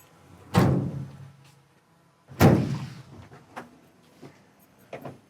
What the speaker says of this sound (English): As we open up the door,